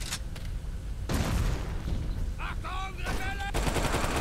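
A Tommy gun in the war shooter UberSoldier II fires in bursts between pauses, mixed with other gunfire; a voice and tonal game sounds cut in midway.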